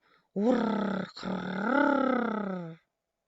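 A human voice imitates an uncle and aunt snoring: one long, rough, roaring drone with a brief catch partway through, sung out alone against silence.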